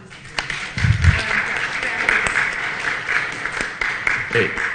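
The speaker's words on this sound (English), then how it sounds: "let's give a round of applause" Applause from attendees at a board study session, moderate clapping sustained throughout with a few louder claps and some murmuring voices mixed in.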